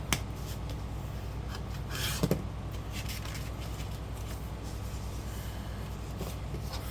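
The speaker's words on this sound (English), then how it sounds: "Fold and burnish all the lines you made on the other side." Fold lines on paper for a hexagon pocket are burnished with a continuous close rubbing and scraping, steady throughout with a couple of brief louder scuffs.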